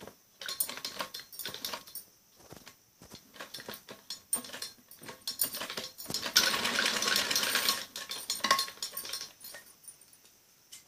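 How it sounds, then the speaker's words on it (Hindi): A sewing machine stitches a straight seam along a fabric strip for a fancy kameez sleeve, running in short bursts and then a longer steady run near the middle, close and loud with no talking. "इसमें पूरी पट्टी में ऐसे ही सीधी सिलाई लगा देते हैं।"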